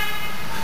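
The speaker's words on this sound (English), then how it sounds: "A lot of honking going on, isn't there?" Car horns honk late at night in a crowded car park where traffic is stuck, one loud, sustained blare filling the short moment without voices.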